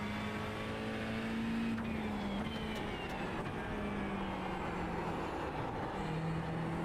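A McLaren GT3 race car in a racing game at Spa, its engine note droning loud and continuous as the pitch rises and shifts, with some faint higher whines layered over it.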